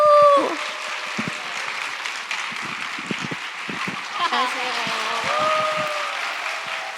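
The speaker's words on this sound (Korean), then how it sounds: "두 분을 뜨거운 박수로 모셔보도록 하겠습니다" Loud, dense crowd applause that continues for several seconds, with voices calling out over the clapping.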